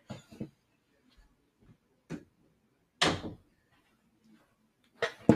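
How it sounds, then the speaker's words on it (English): A door is closed in a quiet room, a few separate knocks and thuds spread over several seconds, with one louder bang near the middle and another at the end, close by. "I was just closing my door"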